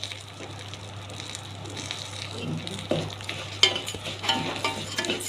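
Rice being stirred in a pot as it fries for Egyptian koshari, with a steady sizzle beneath scraping strokes of a spoon that come through more sharply toward the end; no voices.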